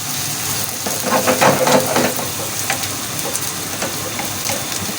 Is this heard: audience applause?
no